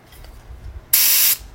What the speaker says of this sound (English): So you're able to spray light